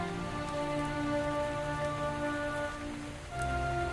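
Steady rain pouring down in a mystery adventure game, a dense continuous hiss of falling drops over sustained tonal background music, with no voices.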